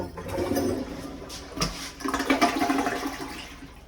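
A bathroom toilet that may not be hooked up flushes, giving a close rushing, gurgling swirl of water that surges and tapers off.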